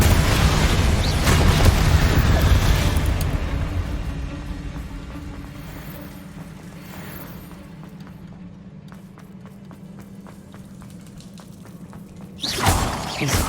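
A Confringo blasting spell bursts in Hogwarts Legacy, a loud explosive whoosh at the start that fades into rumbling debris and scuttling movement, then a second sharp blast near the end.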